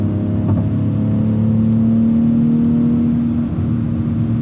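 A 2023 BMW X3 M40i drives and accelerates, its engine note rising in a steady whirring drone that climbs in pitch, heard continuously from inside the car with no talking.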